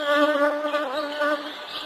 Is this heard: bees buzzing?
yes